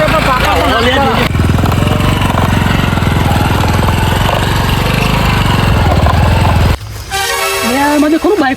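A motorbike drones loudly and steadily for several seconds, with a rapid throbbing engine note, then cuts off abruptly and voices take over at the end.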